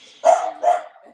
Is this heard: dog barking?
yes